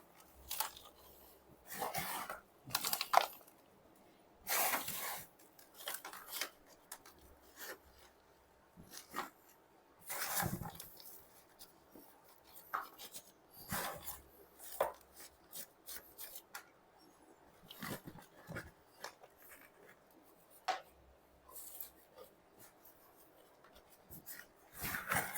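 Loose aroid potting mix is pressed and rubbed by hand around a moss pole for a variegated Monstera adansonii, giving soft scattered rustles and rasps in bursts with quiet gaps.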